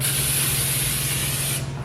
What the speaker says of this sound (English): I just grabbed some canola spray and I'm just gonna really quick grease my pan.